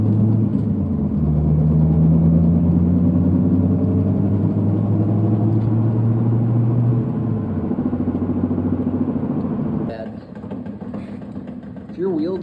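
A worn front wheel bearing on a Honda Civic drones loudly while driving, a low steady hum and rumble that holds for about seven seconds, shifts, then eases off near the end.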